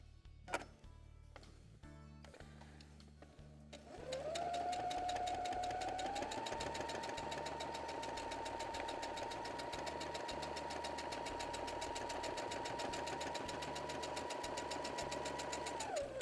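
Sewing machine stitching fabric, a half-centimetre topstitch on a small fabric vaccination-card booklet, with scattered clicks, then a steady close mechanical whir with fast regular ticking and a whining motor tone that runs about twelve seconds and stops.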